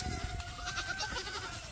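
Several goats bleat in a noisy farmyard as feed is shaken for them, overlapping calls rising over a steady din of shuffling animals nearby.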